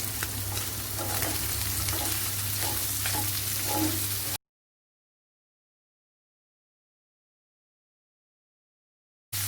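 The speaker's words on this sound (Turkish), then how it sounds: "Şimdi soğanları ilave ediyorum. Şöyle bir iki kere çevireyim." Onions frying in a pan sizzle steadily while being stirred a couple of times, with soft rhythmic scraping, close and moderately loud, then a long stretch of silence.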